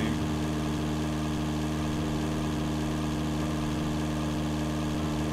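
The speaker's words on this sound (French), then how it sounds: "je sais pas combien montent les moteurs de camion dans la vraie vie" Truck engine droning steadily in the PS1 racing game Test Truck Racing, a constant loud mid-to-low hum with little variation throughout.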